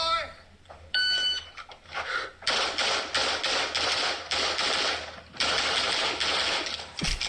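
Gunshots on a practical shooting stage come as fast, sharp strings of cracks in several groups with short gaps, while someone talks over them.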